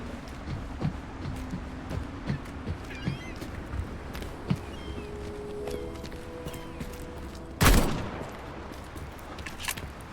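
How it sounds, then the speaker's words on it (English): Gunfire sounds outside in the video game Atomic Heart: scattered distant pops and clatter, then one sharp, louder burst near the end, with no talking. "You just hear the gunshot outside."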